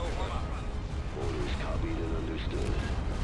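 Dense, continuous barrage of starship weapons fire and explosions rumbles through a Star Wars space battle game, loud and unbroken, with a voice faintly beneath the din.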